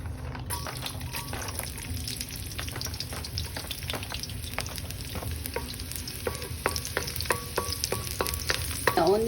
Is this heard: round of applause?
no